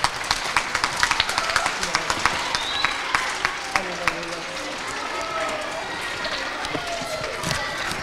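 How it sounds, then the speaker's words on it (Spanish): Scattered clapping from a small crowd at a school author visit, loudest at the start and thinning out, with some talk underneath. "Un fuerte aplauso."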